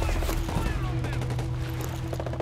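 Rapid automatic gunfire in Ghost Recon Breakpoint crackles in dense, overlapping bursts over a constant low game drone, loud and continuous, with a voice speaking briefly under the shots.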